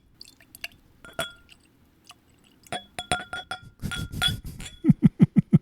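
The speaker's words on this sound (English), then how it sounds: "got to get the glass noises in there" Whisky glasses clinking at a Glenglassaugh Sandend tasting, a quick run of bright glass taps and clinks close by, followed by a rhythmic series of wet pouring glugs and liquid squishes, no voices.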